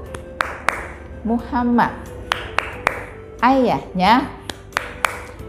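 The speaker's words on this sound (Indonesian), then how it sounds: "Coba yuk kita tepuk bareng" Children clap together in a rhythmic hand-clapping chant used in a primary-school Islamic studies lesson, sharp claps landing in a regular beat between stretches of sung speech.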